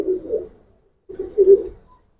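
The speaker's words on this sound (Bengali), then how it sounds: "এটা একটা নর কবুতর।" A male Giribaj pigeon gives two close, throaty coo phrases separated by a brief pause, the second fuller and louder, with no talking.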